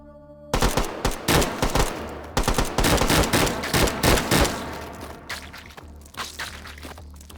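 Rapid bursts of combat rifle fire in the VR shooter H3VR, loud and close, with fast strings of shots broken by short pauses, then sparser single shots and mechanical clatter toward the end.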